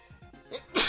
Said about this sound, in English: Hold on, sneeze.